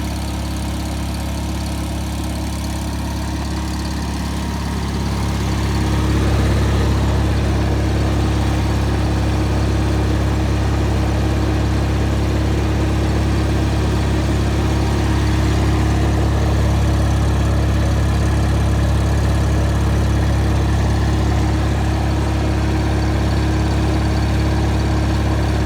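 A Miller 225G engine-driven welder, a barn find, runs steadily with a loud, close, low droning engine hum that rises slightly a few seconds in and then holds constant.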